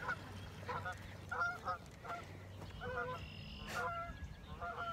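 Geese honk in repeated short, nasal bursts at a moderate distance, against faint outdoor background noise, with a heron nearby; no one speaks.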